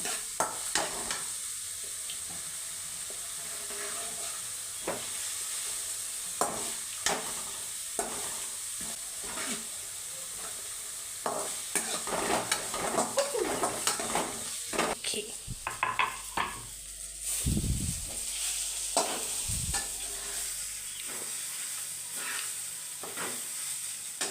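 Sliced onions sautéing in a pan, soft steady sizzling under repeated scraping and clinks of a spoon against the metal, with a low voice heard briefly and louder stirring clatter toward the end.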